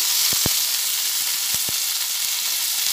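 Sweet potato and flat beans frying in a pan give off a loud, steady close sizzle and hiss, with a few soft knocks near the start and again around the middle.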